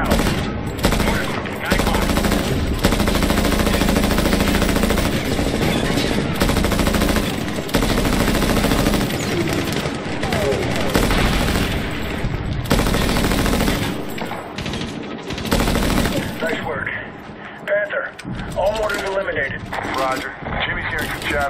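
Dense, sustained gunfire in the Medal of Honor video game, with rapid machine-gun bursts and heavier blasts from mortars rolling on almost without pause at high volume, easing a little near the end, with voices heard intermittently among the shots.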